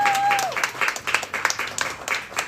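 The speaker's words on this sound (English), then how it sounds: "Please give your applause." Audience applause opening a comedy show in Kyiv, a full crowd clapping steadily and fairly close for a couple of seconds, with a brief tone and a voice faintly under it.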